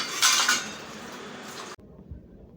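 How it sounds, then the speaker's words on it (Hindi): Dishes, pots and cutlery being washed by hand in a home kitchen, with close clattering and scraping that ends abruptly and leaves quieter room noise. "और तब तक मैं बर्तन थोड़े से धो लूँ।"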